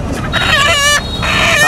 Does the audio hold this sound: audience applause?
no